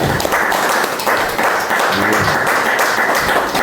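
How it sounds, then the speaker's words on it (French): Church congregation applauding during a French-language testimony service, a dense, steady wash of clapping that holds at full strength throughout, with some murmur or singing faintly underneath. "Applaudissons pour le Seigneur."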